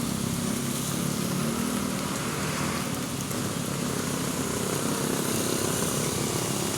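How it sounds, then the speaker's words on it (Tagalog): Steady rain pouring down on a roadside vegetable stall, a dense, continuous hiss filling the whole stretch without letting up, loud and close with no voices. "Inulan tayo dito sa ating pwesto."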